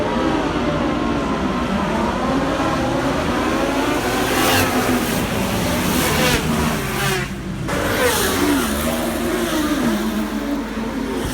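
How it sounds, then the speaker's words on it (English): Super sports motorcycles race on a street circuit at Greymouth, engines roaring loudly and continuously as bikes rev and pass, with rising and falling pitch sweeps of several machines close by. "And then moved along to the sort of Formula 1 type super sports bikes."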